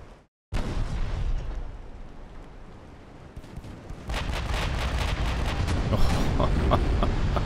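Naval artillery in Ultimate Admiral Dreadnoughts, heavy shells firing and striking at long range: a sudden loud boom after a brief silence, rolling rumble, then a denser run of sharp blasts and impacts, loud and close.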